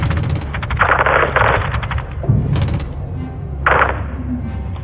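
Sustained automatic gunfire from close air support in Call of Duty: Modern Warfare II, rapid bursts rattling loudly in several waves over a low rumbling battlefield bed, with a radio voice briefly audible.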